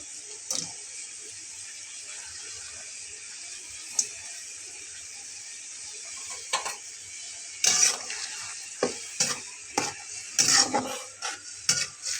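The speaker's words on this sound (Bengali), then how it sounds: "এবার আমি এটার ভিতরে চিংড়ি মাছগুলোকে দিয়ে নেব। তাহলে আমার একসঙ্গে কষানো হয়ে যাবে।" Prawns and bitter gourd are stirred and sautéed together in a pan: a faint, steady sizzle broken by sharper spatula scrapes and clatters that grow busier toward the end.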